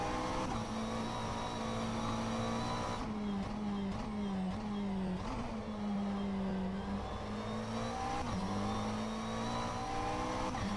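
A McLaren 720S GT3 race car in rFactor 2 howls at high revs, its engine note rising and dipping through gear changes and corners, steady and close throughout with a faint tire squeal.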